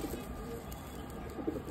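Soft, low pigeon cooing close by, a couple of gentle throaty coos against quiet background noise.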